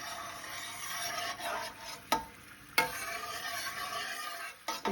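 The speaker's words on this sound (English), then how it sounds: "The heat from the oil is going to melt the honey till you get a nice syrup" Honey being stirred into hot oil, a soft low sizzle with a few sharp spoon taps against the pot, close and fairly quiet.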